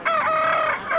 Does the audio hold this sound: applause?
no